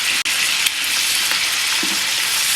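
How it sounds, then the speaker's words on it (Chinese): Bacon sizzling in hot oil in a pan, a loud continuous crackling hiss with one brief clatter near the start, no talking. "油热下培根"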